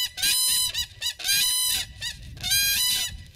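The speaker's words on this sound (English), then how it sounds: "you'll hear two birds calling at the same time" A pair of cranes gives a unison call, loud repeated honking trumpeted bursts in three overlapping waves with brief pauses between, close and clear with no talking.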